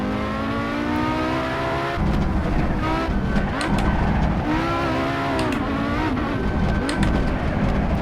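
Audi Quattro rally car engine in the Assetto Corsa racing game on the Targa Florio road course, revving loudly and steadily, with rising and falling pitch as it accelerates and shifts through gears for the whole stretch.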